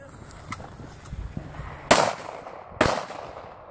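Two sharp, loud gunshots about a second apart ring out at a 3-gun shooting match, each with a short echoing tail, after a few fainter pops and background chatter.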